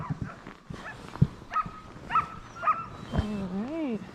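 Alaskan sled dogs bark, yip and whimper after a run, a few sharp barks and a rising whine close by, with people talking and praising them over the noise.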